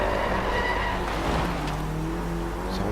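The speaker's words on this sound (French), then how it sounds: "vais essayer de faire un drift quand même" A car drifts in the racing video game DriveClub. A continuous, fairly loud engine drone runs the full length, with a screechy tyre skid laid over it.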